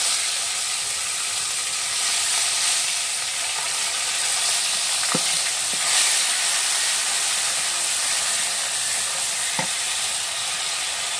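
Raw spice paste sizzles steadily in a pan as fish-head muri ghonto is cooked, a continuous frying hiss with a couple of faint clinks, no voices.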